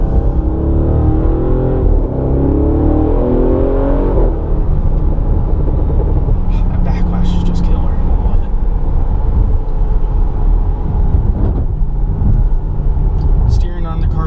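Bentley GT3R grand tourer engine running steadily while driving, a continuous low rumble and whir with a brief rising rev near the start, heard from inside the cabin with a voice talking over it.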